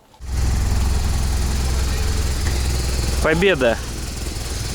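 A motorcycle engine, primed with ether sprayed into its air intake, catches almost at once and settles into a loud, steady, close-up idle with a low throbbing rumble; someone briefly shouts over it near the end.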